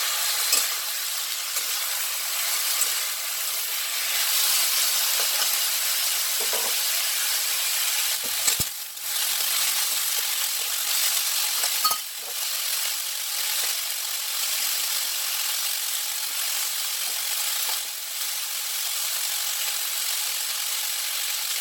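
Capsicum and peas fry in a pan for a chicken stew, giving a steady, close sizzling hiss that runs the whole time, with a few brief stirring scrapes and clinks.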